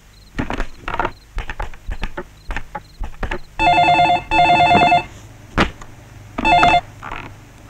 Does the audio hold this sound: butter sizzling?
no